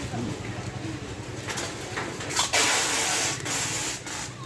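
A pigeon or dove coos in low repeated pulses beneath a steady wash of broadband background noise, with a few brief sharper bursts near the middle.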